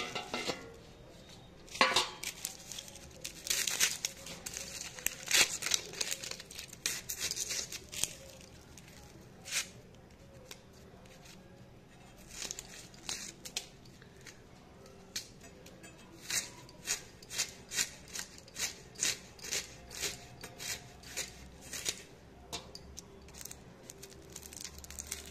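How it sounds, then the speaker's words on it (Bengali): Onions sliced with a knife in a home kitchen, producing a long run of soft, irregular tapping and cutting clicks on a board, with faint utensil clatter and no speech. "দেখো পেঁয়াজটা কেটে নিই, পেঁয়াজ লাগবে"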